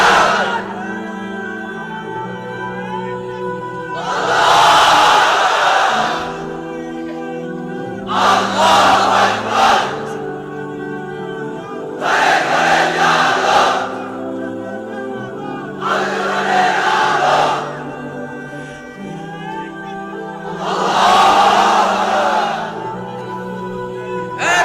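A large crowd at a Bangla religious sermon gathering shouts the takbir together in several loud bursts. A single voice chants between the bursts.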